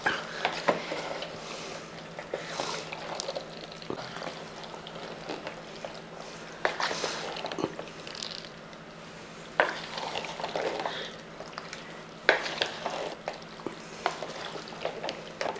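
Tapioca being stirred into cooked chicken in a pan, a steady scraping of spoon against metal with soft sizzling and occasional clinks, moderately quiet and close, with no voices.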